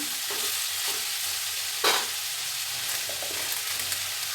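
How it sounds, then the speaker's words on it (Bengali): Bottle gourd and potato sauté in a pan with a green chilli, a continuous close sizzle punctuated by a sharper scrape of stirring near the middle. "লাউ আলু কষানো হয়ে গেছে একটা কাঁচা লঙ্কা দিয়ে দিলাম"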